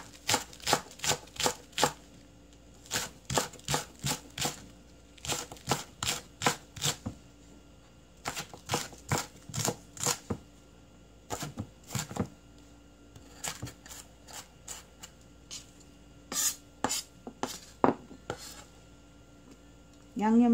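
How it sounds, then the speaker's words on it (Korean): A knife chops green onions finely for a seasoning sauce, making rapid bursts of crisp taps on a cutting board, grouped in quick runs with short pauses between them. "양념장 만들 파는 총총총 썰어주고요."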